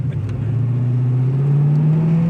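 A 1975 Camaro RS pulling away from a standing start, its engine note climbing steadily in pitch as it accelerates, loud and close with no talking.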